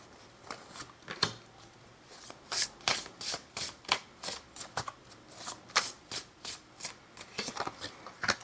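Oracle cards being shuffled by hand, a quiet, close series of quick riffling and rubbing bursts in an uneven rhythm, with no talking.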